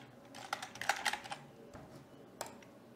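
Keys on a computer keyboard clatter in a quick, uneven burst of close, light clicks, followed after a short pause by one more isolated keystroke, with no talking.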